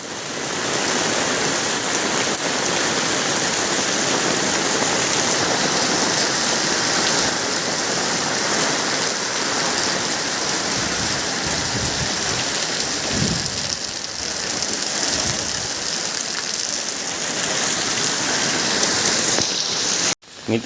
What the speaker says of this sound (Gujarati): હજુ વરસાદ ચાલુ જ છે